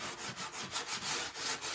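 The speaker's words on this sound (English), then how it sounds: "I'm going to start just distressing this along the edges and the corners" Painted wooden tray edges and corners being distressed by hand, giving a steady run of close, rasping rub strokes, about eight in quick rhythm.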